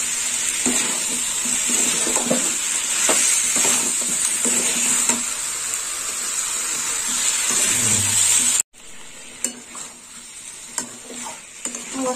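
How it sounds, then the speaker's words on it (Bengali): Green jackfruit stir-fried with spices in a pan, a continuous bright sizzle with scraping stirs for most of the clip, then a sudden drop to quieter sizzling with occasional spatula clacks. "এঁচড়টা দিয়ে ভালো করে কষে নেব।"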